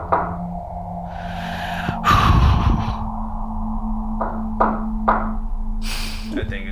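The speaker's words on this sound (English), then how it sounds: "I hear knocking again." A few dull knocks land in a quiet room, spaced irregularly over a low steady hum, with a heavier thump near the start.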